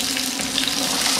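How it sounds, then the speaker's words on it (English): Onions drop into hot seasoned oil in a pan and sizzle in a steady, dense hiss of frying that stays even throughout, close up with no voices. "In goes another tablespoon of that seasoned oil. And when it's hot, in go your onions."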